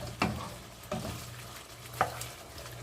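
Chicken is stir-fried in a pan, with a quiet sizzle under a few scattered stirring scrapes and clinks of a utensil against the pan, with no one speaking.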